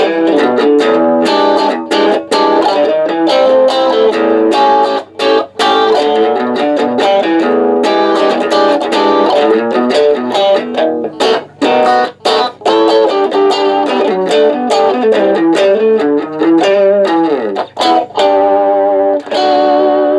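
Electric guitar played through a pedalboard of effects with distortion and chorus but no reverb, a continuous dense strummed and picked passage that stays loud and close throughout, with brief gaps between phrases.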